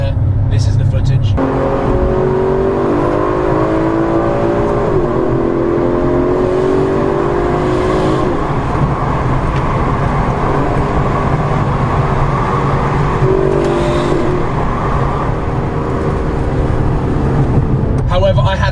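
Aston Martin DB11 engine droning steadily inside the Hatfield tunnel, a loud continuous hum with rising and falling pitch as it accelerates, the enclosed space adding a booming echo throughout.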